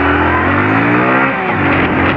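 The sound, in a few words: motorcycle engine revving as it accelerates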